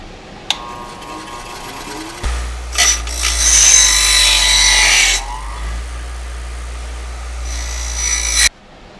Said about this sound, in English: we'll switch to some sanding